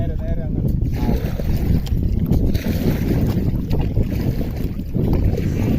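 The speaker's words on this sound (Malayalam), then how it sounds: "നല്ല കാറ്റും അത്യാവശ്യം കോളും ഉണ്ട്." Steady, loud wind over Vembanad Lake buffeting the microphone with a rough low rumble, continuous throughout.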